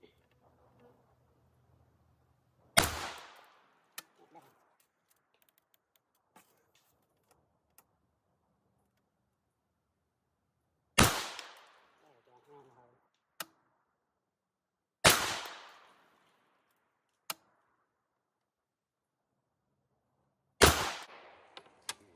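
Rifle shots from a 5.56x45 rifle with a BCA 24-inch barrel, four loud sharp cracks spaced several seconds apart outdoors, each trailing off in a short echo, with small clicks and handling noises in between.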